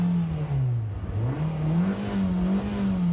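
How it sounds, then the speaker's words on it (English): A 2018 Nissan Versa Note SV subcompact engine revs in neutral, its steady drone dipping then climbing and holding a higher pitch, close and fairly loud with no talking. "So as you can see, we're in neutral. Let's rev it up."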